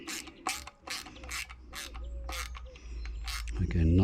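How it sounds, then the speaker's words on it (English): Hand-screwing a fastener while assembling a dual-band Yagi antenna, heard as a series of regular ratchet-like clicks and metallic turns up close, ending with a brief low rumble. "And then just screw that in."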